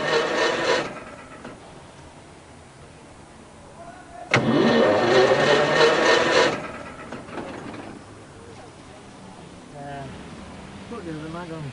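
Vintage Rolls-Royce with a dual magneto ignition and an ignition fault cranking in two loud bursts, a short one first and then a longer churning attempt, with quieter talk around the starts.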